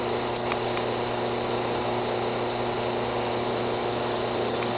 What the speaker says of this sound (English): Gears are running, motor's running.